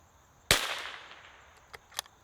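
A single crisp crack from a Tikka T1X rimfire rifle fired outdoors in a little wind, decaying quickly, followed by two faint ticks.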